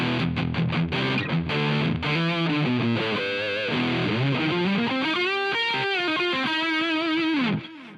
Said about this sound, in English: I'm gonna demonstrate the Wampler SLOstortion now on its own